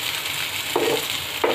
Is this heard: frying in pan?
yes